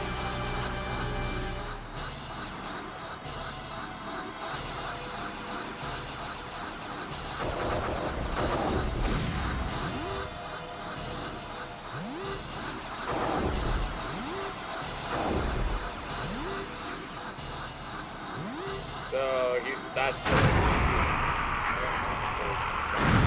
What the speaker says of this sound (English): Run away from the explosion!